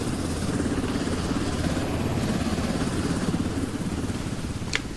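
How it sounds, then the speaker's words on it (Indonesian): Helicopter rotor and engine drone from the video game Quarantine Zone, a steady loud thudding whir held throughout with no break. "Helikopter."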